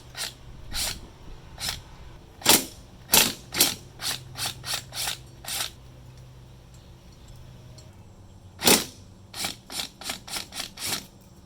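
A 17mm socket on a ratchet loosens the outer nuts holding the blade of an EGO 21-inch 56V lawn mower, heard as close, sharp clicking ratchet bursts in uneven groups with short pauses between.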